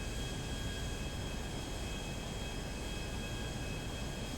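A jet aircraft flies in GTA 5 Online, heard from inside the cockpit as a steady, dense engine roar with a high whine, unbroken and fairly loud throughout.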